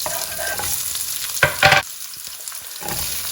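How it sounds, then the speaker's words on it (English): Cumin and black mustard seeds sizzle in hot oil, then roughly chopped onions hit the pan with a brief loud burst of frying before settling into a steady, quieter crackle. "Just let it sizzle, and I'm gonna add 2 roughly chopped onions."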